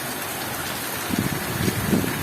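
Heavy summer downpour in the Lviv region of Ukraine, a dense, loud, continuous roar of rain with heavier drops spattering nearby on a surface toward the end.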